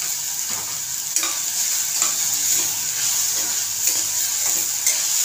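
Turmeric sautés in hot oil in a pan for misal pav, a continuous soft sizzle broken by several sharp scraping stirs, close and fairly quiet, with no voices.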